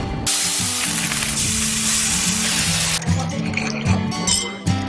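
Omaha steaks sizzle on a grill in a summer television advert, heard as a bright, loud, continuous hiss for a few seconds over light background music, then easing into scattered crackles.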